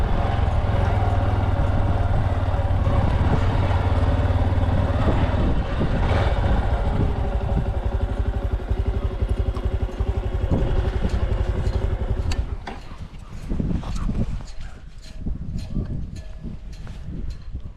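A Honda Trail 125 (CT125) motorcycle engine drones loudly and steadily up close while riding on soft sand, then drops away into rattling, clattering knocks and bumps near the end.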